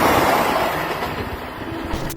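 A passing train makes a loud, steady, broad rumble that fills the whole short stretch, with no voices heard.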